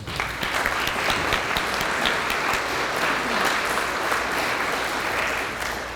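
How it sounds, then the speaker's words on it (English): Sustained applause from guests at an alumni reunion brunch and awards program, a full, even roar of clapping from a roomful of people, holding steady before easing slightly at the end. "So let's give them a round of applause."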